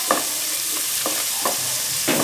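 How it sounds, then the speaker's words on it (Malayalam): Crushed onion and chilli with curry leaves sautéing in hot oil for a Thrissur-style koorka stir fry, a steady sizzle broken by about five distinct scraping stirs of a spoon, close and with no voices. "ഇത് സോട്ട് ചെയ്തിട്ട് ഇതിൽ കുറച്ച് കറി ലീവ്സ് ഇടുക"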